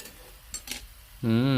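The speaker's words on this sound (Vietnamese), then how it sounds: "Rồi mình để cho nó sôi lên nè." Sweet and sour sauce for tofu comes to a boil in a pan. A few quiet utensil clinks are followed by a sudden loud, steady bubbling hiss at close range.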